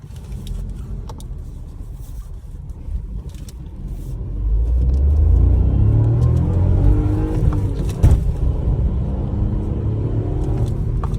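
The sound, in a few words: Skoda Kylaq engine revving through turbo lag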